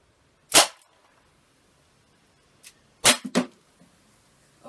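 Sharp, snappy shots from a Dan Wesson 4 softgun revolver: one crack, a pause, then a faint pop and a quick pair of shots close together, all near and clear in a quiet room.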